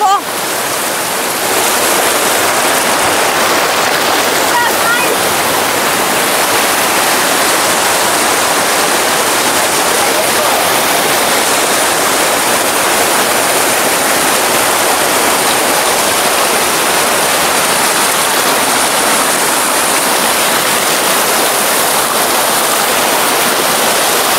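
A waterfall in Manipal roars close by in a loud, unbroken rush of falling water that fills the whole scene with dense, steady noise.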